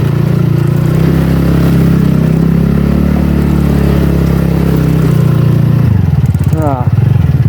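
A motorcycle engine labours loudly up an off-road trail toward a waterfall, a close, rough throbbing drone that shifts in pitch near the end as the rider revs.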